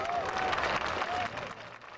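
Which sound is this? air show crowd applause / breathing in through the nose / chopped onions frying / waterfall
air show crowd applause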